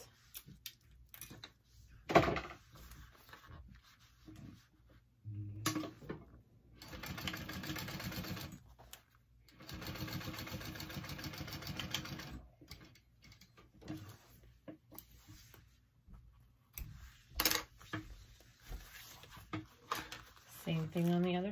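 A sewing machine top stitches a seam on the base of a beachcomber-style fabric handbag, running in several steady whirring bursts of a few seconds each, separated by quiet pauses and handling noises, with talk in between.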